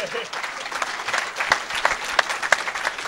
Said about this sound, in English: I think it's time for a round of applause